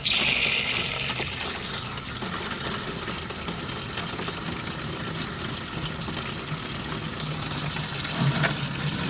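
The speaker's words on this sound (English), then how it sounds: "Let's get some rainwater on here." Rainwater pouring steadily onto freshly planted soil in a vegetable garden, a continuous loud gush and splash with no break and no voices.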